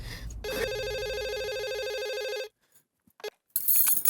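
Telephone ringing with one long continuous electronic ring, loud and close, then a short silence and a brief chirp before other sounds begin; the call is to Madhavi, in a comedy set during Navratri.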